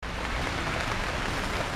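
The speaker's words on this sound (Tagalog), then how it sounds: "Tinaulan no, talaga oh, lakas. Basa na rin ako ng ulan." Heavy rain pours down steadily outdoors during a scavenging trip for goods in the Philippines, a dense, continuous broadband hiss that stays loud and unbroken throughout, with no talking.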